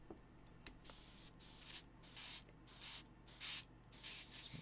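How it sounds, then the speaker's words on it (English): Airbrush spraying violet paint in short repeated bursts, each hiss lasting about half a second with brief pauses between, close and fairly quiet against a low steady background hum. "Sure it's got a nice spray before I do this"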